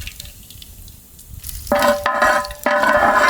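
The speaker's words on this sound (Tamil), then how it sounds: "கால் உழைச்சலுக்கு கடுகு நல்லா சேர்க்கணுமுக்கா. கடுகு நல்லா பொரிஞ்சு வந்துமுக்கா" Mustard seeds spluttering in hot oil for a village-style country chicken curry, a quiet start then sudden loud crackling sizzle bursts that pop and spit up close, with no voices.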